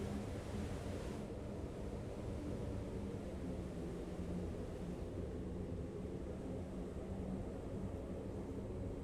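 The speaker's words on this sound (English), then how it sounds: "goes right through the waterfall." A waterfall in the video game Satisfactory gives a steady, dense rushing roar that holds evenly throughout, with no voices.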